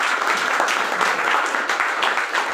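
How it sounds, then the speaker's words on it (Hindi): An audience at a sales and awards gathering claps loudly and steadily, a dense continuous patter of many hands with no talking over it. "एक बार जोरदार तालियों से"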